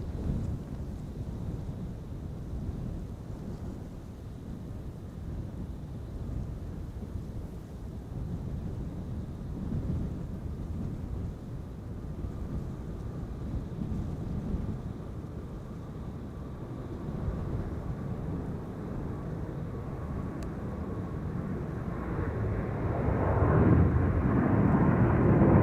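Cathay Pacific flight 270 airliner departing Schiphol's runway 36L Polderbaan, bound for Hong Kong: a broad, distant low rumble of engine roar that holds steady, then swells louder near the end as the jet climbs away.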